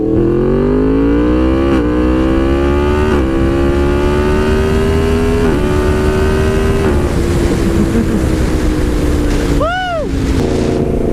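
Yamaha MT-10 motorcycle accelerating hard through several seamless quickshifter upshifts, rising engine pitch with brief dips at each shift, loud and close, wind noise throughout, ending with a quick passing whine.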